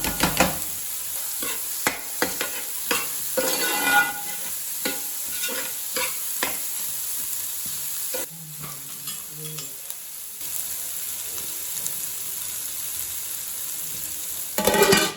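Prawn fried rice with finely chopped capsicum stir-frying in a pan: steady sizzling under repeated scraping and tossing strokes of a spatula, close and clear, with no voices.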